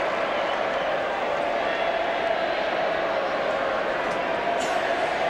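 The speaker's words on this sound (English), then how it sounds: "Peter Matera comes off with great applause after a great day's" Crowd applause at a 1999 AFL match between West Coast Eagles and Adelaide Crows as a player leaves the field, a steady wash of clapping and cheering from a large stadium crowd under a commentator's voice.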